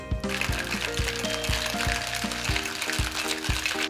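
Tequila pours steadily into a glass over a repeating musical beat, a continuous splashing fill that runs throughout.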